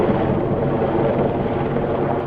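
Russian Mi-17 helicopters fly in an Afghan valley, their dense, steady rotor and turbine roar filling the sound loud and close without pause, no voices heard.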